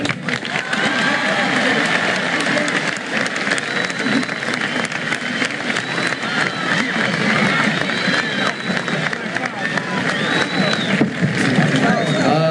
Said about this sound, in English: I would like for you to have a big round of applause for Mr. Anthony Franciosa.